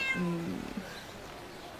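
Kitten meowing once, a short, high, close cry that fades out quickly over a quiet room background.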